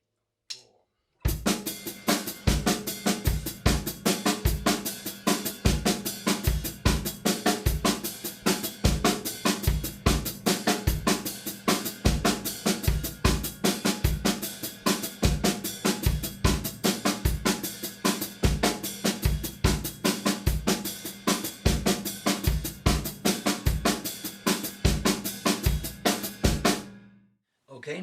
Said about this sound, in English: your right side is playing the inverted paradiddle at an 8th note rate